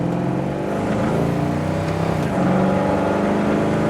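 1969 AMC AMX car accelerating through the gears from inside, a loud sustained engine drone with rising pitch that dips at a shift and climbs again.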